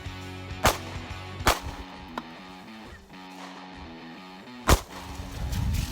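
A Sig Sauer P365 SAS pistol fires outdoors in three sharp, loud cracks spaced irregularly, with quieter rustling and background hum in between.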